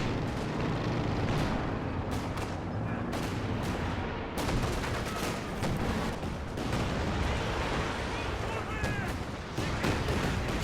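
Artillery fire in a Company of Heroes 2 match with infantry support guns against artillery cover, dense continuous booms and blasts layered throughout, loud and close, with a voice talking over the barrage.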